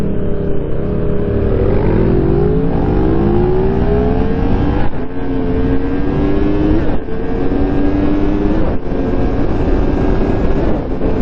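Big motorcycle engine revving hard nearby, a loud sustained roar rising through the gears with pitch climbing and dropping between shifts, running continuously for over ten seconds without speech.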